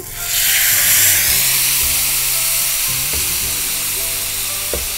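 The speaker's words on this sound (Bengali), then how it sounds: "এই মাংসটাকে আমি একদম সিল করে দিব, এই জন্যই এটা ভালো করে গরম করতে হবে।" Meat hits a hot pan and erupts into a loud, steady sizzle that continues strongly, with a few faint clinks underneath.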